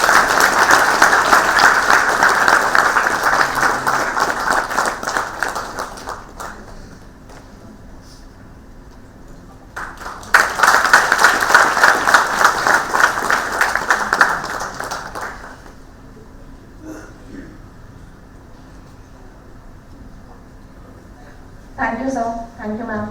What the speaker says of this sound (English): A huge round of applause,